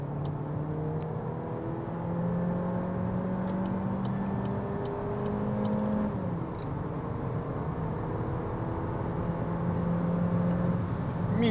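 A Volkswagen Golf 8 facelift with a 1.5 eTSI engine and DSG gearbox accelerating hard in sport mode, heard from inside as a continuous engine drone rising in pitch, with gear changes breaking the climb.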